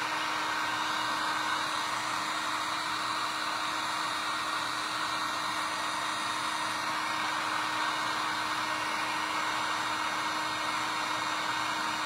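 A heat tool blows hot air to dry paint on a Christmas ornament, producing a constant, close whooshing hum with a faint steady tone running underneath, alone and unchanging.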